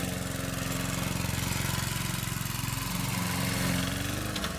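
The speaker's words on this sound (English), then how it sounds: "I thought they all disappeared because all I could hear was a lawnmower" A lawn mower engine runs steadily and loudly throughout, a continuous rough mid-pitched drone with no voices over it.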